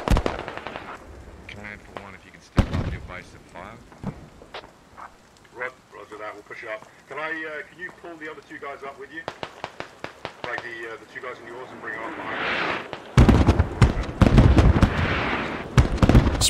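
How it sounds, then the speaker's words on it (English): A mortar barrage landing in the Squad video game: a sharp explosion early, then a rapid cluster of loud blasts near the end, with talk running through the middle. "Mortars are about to land."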